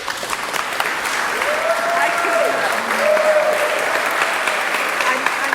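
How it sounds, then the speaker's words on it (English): Church congregation applauding a guest preacher, Minister and MP Evan Solomon, at a morning service; steady broadband clapping fills the room while a faint voice briefly sounds over it. "guessing from the applause you know who he is"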